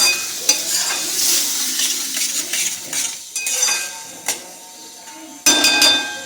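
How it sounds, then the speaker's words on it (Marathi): Masala and yogurt cook in a pan over medium heat while a spoon stirs and scrapes steadily, with metallic clinks against the pan over a continuous sizzle, close and fairly loud. "सगळा मसाला आणि दही हे सगळं आपल्याला व्यवस्थित शिजवून घ्यायचं आहे"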